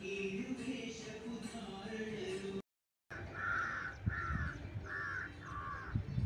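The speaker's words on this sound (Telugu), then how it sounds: "ఎలా ఎగురుతున్నాయి చూడండి పక్షులు" Crows cawing in a rural village, four loud harsh caws in a row after a brief gap, with other birds and faint background noise beneath.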